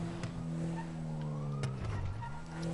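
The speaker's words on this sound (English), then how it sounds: "I drive this around whenever I play GTA." A rusty car in the GTA video game drives steadily, its engine holding a sustained whining tone that dips and rises as tires squeal briefly, loud and close with no talking.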